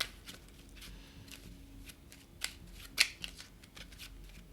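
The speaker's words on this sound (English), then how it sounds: "we forgot to shuffle the hit location deck again" A deck of hit location cards for the Kingdom Death Monster board game is shuffled, giving faint papery riffling with a couple of sharper card snaps near the end and no talking.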